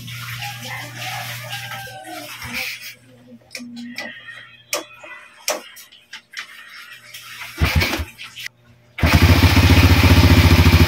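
A motorcycle engine fitted with a replacement carburetor is cranked and catches at the very end, running loud and steady for about two seconds. Quieter mechanical clatter and handling noises come before it.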